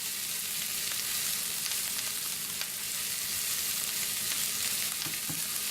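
Food sizzles and fries steadily in a hot pan, a continuous bright crackling hiss that holds even throughout, close by and with no talking.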